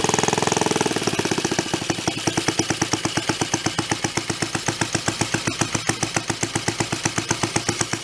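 A donated, previously broken reel mower's small engine drops from a higher run to a slow, even putt, each firing pulse distinct and loud at close range, running without its air cleaner fitted.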